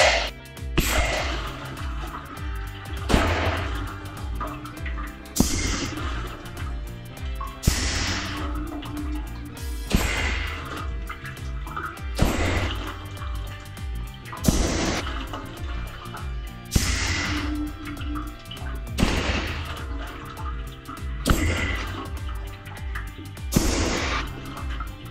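An AirSweep pneumatic flow aid fires sharp air pulses through water in a bin. Roughly nine forceful bursts land every few seconds, each a loud, splashy gush that trails off before the next.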